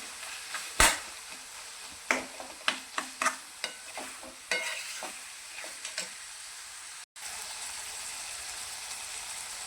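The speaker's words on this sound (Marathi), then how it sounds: "एकदा आपण हे चांगले परतून घेऊया" Tomato chutney sautés in a pan. A spatula scrapes and knocks in a run of sharp clatters over a soft frying sizzle, then the stirring stops and a steady hiss carries on alone.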